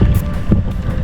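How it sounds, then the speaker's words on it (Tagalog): Strong wind buffets the microphone with a low, roaring rumble and gusty swells, loud and steady throughout this brief moment. "Malamig na at malakas na ang hangin."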